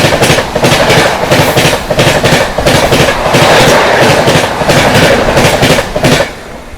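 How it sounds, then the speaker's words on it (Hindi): The Kanpur–New Delhi Shatabdi Express 12033 rushes past at speed, loud and close. Its wheels give a rapid clickety-clack over the rails before the noise drops away at the end. "12033 कानपुर न्यू दिल्ली शताब्दी एक्सप्रेस आती हुई भाई अपनी स्पेशल को ओवरटेक करने"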